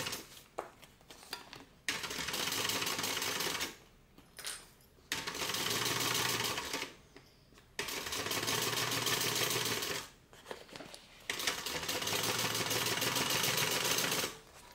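A sewing machine stitches a tote bag seam in several loud, steady runs of rapid whirring, separated by short pauses for a back stitch and repositioning.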